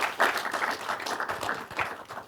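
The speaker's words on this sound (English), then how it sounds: "Give a warm applause" Audience applause at a mobility design conference, a dense, steady wash of many hands clapping that swells and holds for a couple of seconds at moderate level, with no voices over it.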